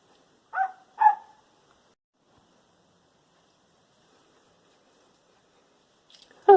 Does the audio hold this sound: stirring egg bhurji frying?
no